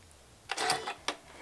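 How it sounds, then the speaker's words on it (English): A sewing machine stitching quilt strips cut from pre-cut fabric gives a brief mechanical whirring run followed by a short second burst, fairly quiet, with no talk. "Let's go to the sewing machine and put this together."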